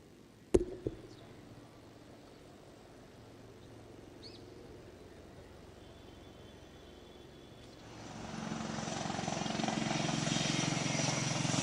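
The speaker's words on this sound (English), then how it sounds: "We shall now witness a spectacular simulation by the daring Advanced Light Helicopter." An Advanced Light Helicopter at a Navy Day ceremony at the Gateway of India, its rotor and engine noise faint at first, then swelling louder over the final few seconds as it approaches; a sharp bang sounds near the start.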